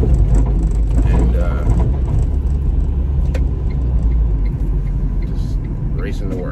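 A 2012 car with an overheating issue driving on the road, its engine and tire rumble loud and steady close up, with a person talking over it.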